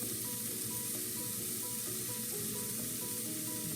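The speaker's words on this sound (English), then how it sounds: "Now I'm going to add my jackfruit" Jackfruit sizzling and frying steadily in a pan with vegetables, a constant crackling hiss throughout with faint stirring clinks and no talk.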